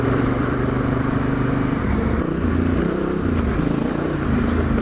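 A Suzuki DRZ dirt bike runs down a country road on a sunny day, its engine a steady, loud, close droning hum with slight pitch shifts and constant wind rush.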